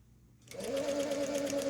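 A sewing machine stitching leather sleeves starts up after a quiet moment and runs in a steady, fast, close mechanical whir with a rhythmic needle pulse.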